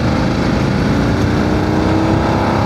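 A loud BMW F900 GS Adventure motorcycle engine roars steadily at full throttle in fifth gear from 3000 rpm, its tone holding strong and dense throughout with no voices over it.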